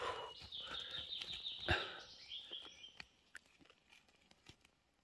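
Wild birds call and chirp repeatedly outdoors during a fishing outing, a busy chorus of short bright calls that thins out toward the end, with faint clicks and rustles underneath.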